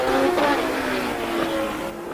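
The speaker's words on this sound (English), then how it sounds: "Having Danner in front of these two cars may well be a significant factor." Formula One race cars at the Phoenix Grand Prix street circuit roar past, a loud, high engine whine holding steady with a slight pitch fall as they go by.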